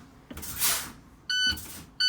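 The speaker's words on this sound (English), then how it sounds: "I'm waiting to hear the alarm come on" A bus low air pressure warning alarm beeps during a pre-trip brake check, two steady electronic tones starting and stopping close by, with the hiss of air brakes being pumped just before.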